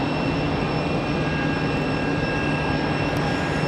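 An Alaska Airlines jet taxis across the bridge at Raleigh-Durham International Airport, a loud, steady engine roar with a constant whine and no talking.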